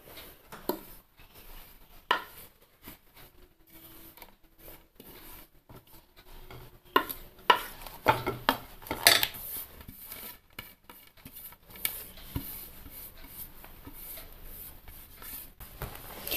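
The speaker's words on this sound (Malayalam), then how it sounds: "ഇതിപ്പം ചൂടായ പാനിലേക്ക് തേങ്ങ ഇട്ട് കൊടുക്കാം" Grated coconut roasts over low heat in a hot pan while it is stirred steadily, giving soft rasping scrapes and light patter with occasional sharper knocks.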